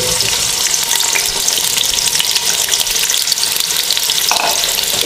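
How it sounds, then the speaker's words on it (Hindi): Onions hit hot oil in a pan on the stove and sizzle steadily, a dense, bright crackle that stays close and constant throughout with no talking. "प्याज डाल देंगे"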